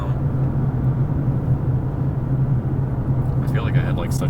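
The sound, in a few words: Lexus LC 500 car engine rumble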